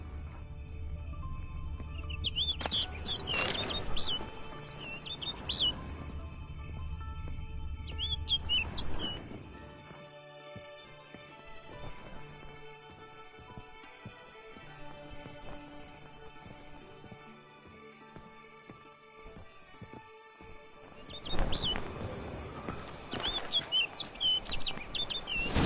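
Bird calls in The Witcher 3 come as sharp chirps and tweets in short bursts near the start and again at the end, over a low wilderness ambience with faint hoof-like clopping and no speech.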